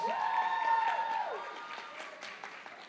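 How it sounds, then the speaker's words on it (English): A school percussion concert audience applauds its director of percussion, brisk clapping that starts strong and fades, mixed with decaying ringing instrument tones and a sliding pitch. "How about a round of applause for our Director of Percussion, Mr. Chris Ryles?"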